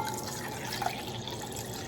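Cold water with a few ice cubes poured into a one-cup measure while making a creamy strawberry fluff dessert, a steady close splashing trickle running for about two seconds.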